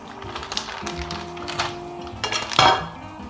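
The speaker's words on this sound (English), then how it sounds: "And we give it a stir" Metal utensils clink and scrape against a pot as noodles are stirred into a boiling curry laksa mixture, with a louder clatter near the end and a steady background hum.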